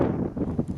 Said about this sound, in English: Kind of cool and windy right now.